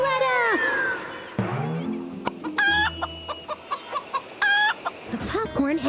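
Cartoon chicken clucks and squawks in short bursts, mixed with character voices and background music from a children's animated rescue-team show.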